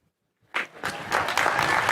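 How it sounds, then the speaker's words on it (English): After a brief silence, an audience at a commencement ceremony for the class of 2021 bursts into applause that swells and holds loud and steady. "I'm glad for the applause"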